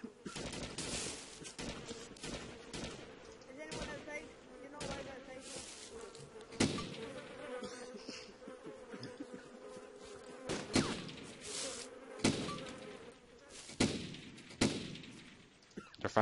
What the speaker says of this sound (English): They're firing through the gate.